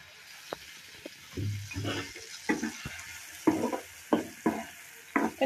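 Chopped onions frying in a pan along with mushrooms for poha, a steady sizzle broken by repeated scraping and stirring strokes, close and fairly loud, with no talking.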